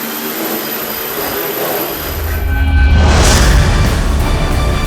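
Quadcopter drone lifting off indoors toward the ceiling, a close high-pitched motor whine that swells into a louder rushing roar as it climbs, with no talking.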